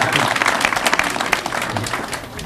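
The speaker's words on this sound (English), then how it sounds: "Give them a round of applause." A crowd at a middle school ribbon-cutting ceremony applauds continuously, dense overlapping claps filling the room, with faint voices mixed in.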